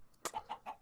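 Chicken clucking from Minecraft Sky Factory 3: a short burst, then three quick, evenly spaced clucks, close and moderately loud with no talking.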